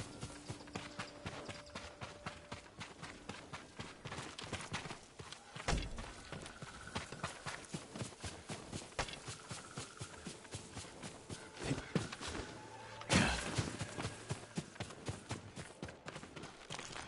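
Horse hooves clip-clop steadily on the ground in the Ghost of Tsushima video game, a farm horse walking at an even rhythm. The hoofbeats sound fairly close, with a few heavier thuds along the way.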